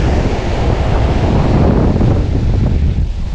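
Strong wind roars across the microphone on a Jamaican shore while ocean waves wash in beneath it, a loud, dense, continuous rush with no speech.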